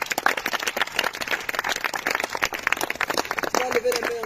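A church congregation at a French-language worship service applauds, a dense, steady clatter of many hands clapping together, close and lively, with a voice speaking over it.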